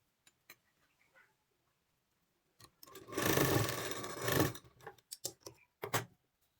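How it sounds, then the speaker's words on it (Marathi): A sewing machine stitches a neckline strip on a blouse, a short rapid mechanical whirring burst of about two seconds, framed by scattered clicks and handling taps of the fabric in a quiet room. "हे असे सिलाई मारून घ्यायची"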